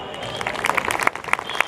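Applause from an audience at a school alumni reunion gathering in Surat, a short burst of dense clapping close and moderately loud, with some voices mixed in.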